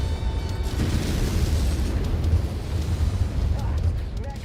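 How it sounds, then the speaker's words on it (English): Artillery barrage explosions in MechWarrior 5 roll in as a continuous, dense low rumble of booms lasting throughout, loud and close, with a voice speaking over the battle noise. "Oh, here comes the barrage."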